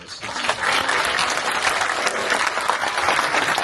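A hall full of people at a film screening event breaks into loud, sustained applause, a thick, even roar of many hands clapping close by with no break.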